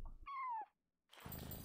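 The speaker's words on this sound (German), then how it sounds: "Oh, ich glaube, ich habe noch eine Katze gefunden." Cat in the video game Yonder giving a single clear, rising-falling meow, followed by a short pause and then a burst of rustling noise.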